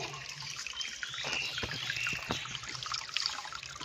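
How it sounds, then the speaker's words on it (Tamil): Water from an aquarium waterfall setup trickles and splashes steadily at close range, with a soft, continuous liquid burble throughout. "வாட்டர் ஃபால் செட்டை பாருங்க கைஸ்"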